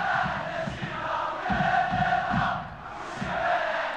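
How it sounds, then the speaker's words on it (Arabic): Kenitra football supporters in the stadium stands, a steady roar of chanting and rhythmic crowd noise that dips briefly and swells again, heard from a distance. "خلفهم مباشرة الجماهير القنيطرية التي تتفاعل مع كل حركة"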